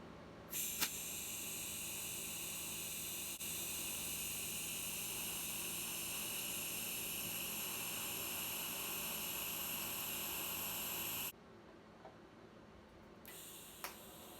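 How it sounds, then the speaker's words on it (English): Welding intercooler mount brackets on a 1994 Honda Accord in a garage, a steady close hiss and buzz of the welding arc running continuously for about ten seconds, then cutting out, followed by a short second burst. "Now it's time to finish welding them all up."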